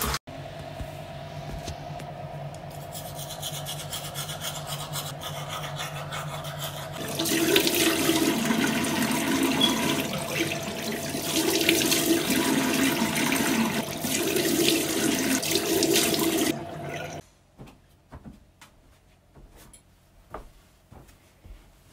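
A bathroom tap runs steadily close by during face washing, a constant gush that grows louder and splashier midway as hands and water move about, then stops abruptly, leaving faint knocks and quiet.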